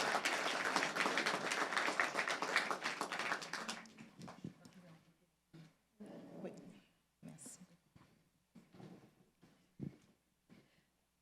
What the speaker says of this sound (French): On l'applaudit encore plus fort et elle va nous parler.